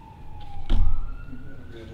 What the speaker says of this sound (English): Police car coming.